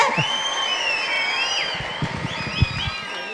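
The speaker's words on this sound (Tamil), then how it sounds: "ஒரு கைத்தட்டல் கொடுத்துடலாம்" Audience clapping and cheering at a live stage event, a steady wash of applause with a few whoops rising toward the end and some talk underneath.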